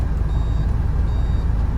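Steady reverse warning beeping from a 1993 Suzuki Carry kei van with automatic transmission over a constant low engine rumble, heard from inside or near the vehicle.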